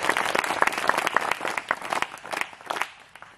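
An audience at a Waghbaras village gathering claps in tribute, loud uneven applause with distinct hand claps that thins out toward the end.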